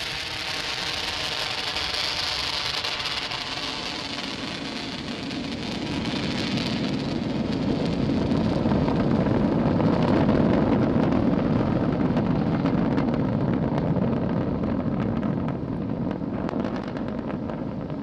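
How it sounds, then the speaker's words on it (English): A Falcon 9 rocket lifts off from Launch Complex 39A carrying the IXPE observatory, making a sustained, loud broadband roar that builds and swells steadily for the whole stretch, with no voices. "successful liftoff of the Falcon 9 from Launch Complex 39A"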